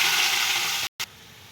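Carrots dropped into hot ghee and oil in a kadai, giving a loud steady sizzle that cuts out abruptly, then returns as a quieter frying hiss.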